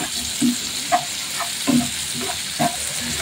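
Onions fry in spiced oil with pabda fish masala in a pan, giving a loud, close sizzle with four distinct thumping stirs of the spatula spaced roughly a second apart and no talking.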